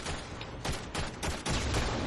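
Rapid bursts of gunfire from the video game Warframe, several loud volleys fired in quick succession filling the whole clip, with no talk over them.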